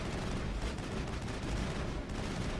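Dense, continuous gunfire from the video game Mass Effect, a steady broadband roar of rapid shots and blasts at even loudness throughout, with no pauses and no voices.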